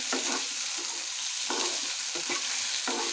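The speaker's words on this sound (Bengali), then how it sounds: "আলু কুচি কুচি করে ফ্রাই বানাচ্ছি।" Finely cut potatoes fry in hot oil with a steady hiss of sizzling, broken by several spatula stirs that scrape through the pan at irregular intervals, close and fairly loud, no voices.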